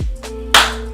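A single hand clap made at a distance from the microphone, thin and roomy, sounding a moment after a fainter tap; no one speaks.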